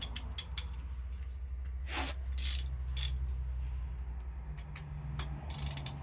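A ratchet with a large 24 mm socket works on an engine drain plug during a MEV Exocet kit car build, quick clicking ratchet strokes in short bursts over a low hum, close and quiet.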